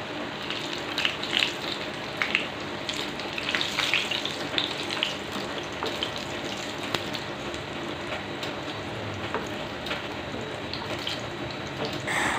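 Bitter melon stir-frying in a pan, a steady loud hiss and crackle running throughout with scattered brighter pops and spatters, no voices.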